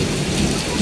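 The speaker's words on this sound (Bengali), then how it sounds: "কত জোরে হচ্ছে বৃষ্টি।" Heavy rain pours steadily with a low rumble of thunder underneath, a dense, continuous wash of sound close by with no voices.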